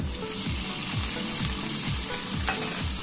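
Kimchi sizzling in a hot pan for fried rice, stirred with a spatula that scrapes in a steady rhythm over the constant close frying hiss, with no talking.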